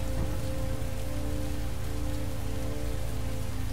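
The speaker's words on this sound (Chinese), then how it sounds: "为什么每次都要以这种下雨的形式开场" Steady rain falls in the video game Heavy Rain, a dense continuous patter on surfaces with a low hum underneath. It sounds close and constant, with no speech.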